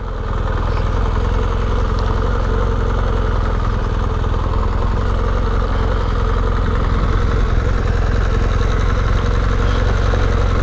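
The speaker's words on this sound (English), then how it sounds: "Can you hear the bike, how effortlessly it just rolls up and over and through the ditches and everything?" A motorbike engine chugs steadily along a forest track with a continuous, loud low rumble that holds nearly even throughout, no voices heard.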